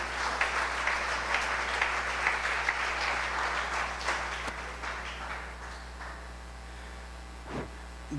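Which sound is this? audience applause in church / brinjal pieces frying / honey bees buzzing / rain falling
audience applause in church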